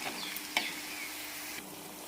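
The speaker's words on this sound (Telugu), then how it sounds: "అల్లం, ఎల్లిపాయ, ఉల్లిగడ్డ అన్నీ కలిసి మంచిగా మిక్సీ చేసి పెట్టాను. ఇది పచ్చి వాసన పోయేంత వరకు వేయించుకున్నాం." A mixed paste of ginger, garlic and onion sizzles in a pan with a steady, soft hiss, broken by a small pop and a faint scrape of stirring, and no voices over it.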